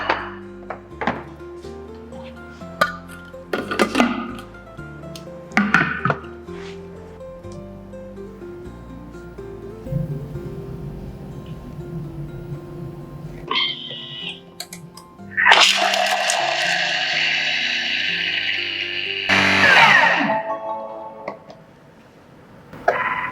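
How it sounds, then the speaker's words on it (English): Lemongrass, shallots, turmeric and garlic go into a Thermomix mixing bowl with a few knocks and thuds, then the machine whirs up into a loud, steady blending roar that stops briefly and restarts near the end. "I'm going to place in the mixing bowl to blend"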